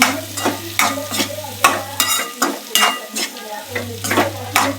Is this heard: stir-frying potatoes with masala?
yes